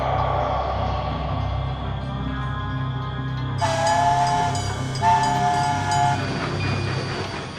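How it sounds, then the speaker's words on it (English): An animated cartoon train runs steadily with a low rumble, then a high whistle sounds twice in bursts over the continuous rolling noise. "I simply love to travel by train"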